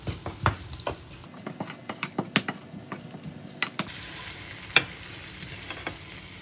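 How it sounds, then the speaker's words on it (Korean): Thawed shrimp seasoned with salt and pepper being stir-fried in a pan, giving a soft sizzle under repeated scraping and clacking of a utensil against the pan. "한 번 더 볶아줄게요."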